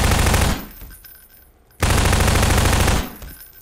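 SMG fire in Garry's Mod: two loud, close sustained bursts of rapid automatic shots, separated by a short lull of quieter background noise.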